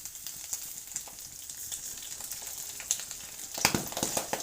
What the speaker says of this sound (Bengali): তো আমি আবার এই মাছগুলো আমি আবার ভেজে নেব